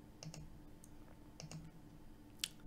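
Computer mouse clicking while selecting a team in Microsoft Teams, a few quiet separate clicks spread across a couple of seconds at low level, with a sharper click near the end.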